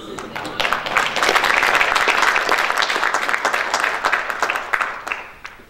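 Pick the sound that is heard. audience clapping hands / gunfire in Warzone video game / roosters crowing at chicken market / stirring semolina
audience clapping hands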